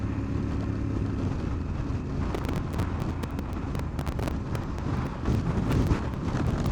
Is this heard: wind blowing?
yes